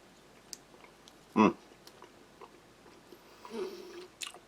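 Half a stick of firm strawberry-flavoured gum from a Latvian army field ration is chewed close up, with one sharp moist bite standing out among faint, soft mouth clicks and a little rustle.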